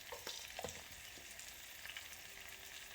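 Turmeric, chili and cumin powders frying in a pan give a faint, close sizzle with a few stirring scrapes and clicks, no voices.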